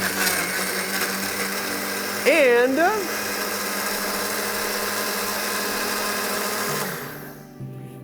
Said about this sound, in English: Remember to cover the blender.